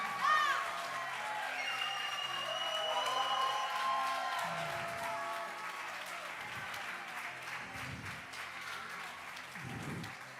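A school theater crowd applauds the cast and crew of a Lion King production, clapping mixed with cheers and whoops, some high children's voices and bursts of sound near the end.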